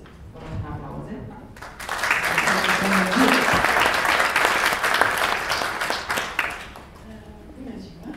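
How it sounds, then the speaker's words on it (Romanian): Sustained applause from an audience at a family charitable foundation event, loud and steady for several seconds before tapering, with a voice speaking faintly at the start and end. "Vă rog un aplauze."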